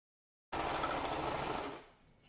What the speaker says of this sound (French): Moi je passe à la surjeteuse.